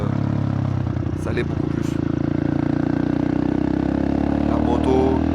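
A motorcycle ridden in Bali vibrates and rattles, giving a steady, loud engine drone with clattering and scraping noises underneath, while someone talks in French over it.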